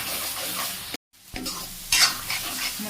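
Dry masala fries in oil over a low gas flame for an Assamese-style chicken curry: soft sizzling and spoon scraping, a brief full silence, then renewed stirring with a louder scrape.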